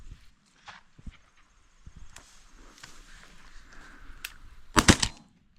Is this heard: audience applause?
no